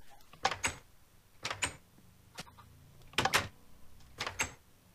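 An iron door in the Minecraft video game opens and shuts with quick metallic clanks, arriving in four paired bursts a second or so apart over faint background hum.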